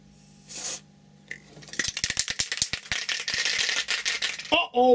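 Short bursts of aerosol spray hiss into the open mechanism of a Pioneer CLD-2950 laser disc player during cleaning, a rapid run of close, loud puffs and rattling hisses following a brief quieter stretch.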